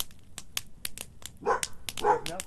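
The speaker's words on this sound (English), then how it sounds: "Stan, stop barking." A dog gives a series of sharp barks and yips, with two louder howling whines close to the microphone, indoors during a live stream.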